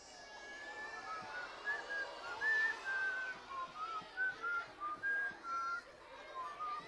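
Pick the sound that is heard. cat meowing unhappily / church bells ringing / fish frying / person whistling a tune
person whistling a tune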